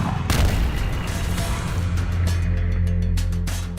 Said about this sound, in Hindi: आर्टिलरी यानी तोपखाने का अब भी कोई जवाब नहीं है